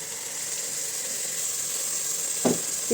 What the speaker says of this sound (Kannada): ಕಡಿಮೆ ಉರಿ ಇಟ್ಕೊಂಡು ಫ್ರೈ ಮಾಡ್ತೀನಿ